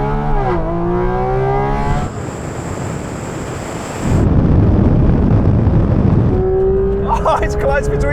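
A Porsche 911 GT3 RS and a GT4 RS launch in a drag race with a loud rising engine note that gives way to a roaring rush of wind and engine noise, followed by a renewed engine drone. A voice talks at the end.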